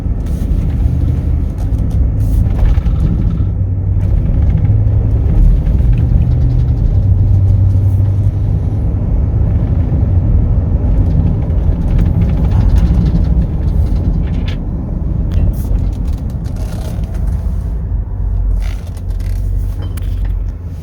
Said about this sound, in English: we're all set to take this F250 for a little test drive